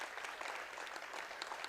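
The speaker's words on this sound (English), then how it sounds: "you hear the crowd clapping for her" A crowd claps steadily at a high school wrestling match between the PRHS Bobcats and the Mascoma Valley Royals, a dense, even patter of applause heard from a moderate distance with no talking over it.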